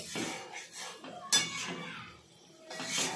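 A metal spatula clinks and scrapes against a pan during home cooking, with irregular close knocks and one sharp clang, and no talking.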